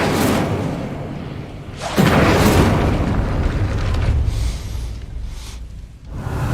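An Incendio fire spell cast in Hogwarts Legacy, a deep whooshing blast that flares up loudly and then rumbles and crackles away over several seconds.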